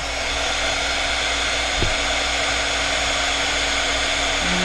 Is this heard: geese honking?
no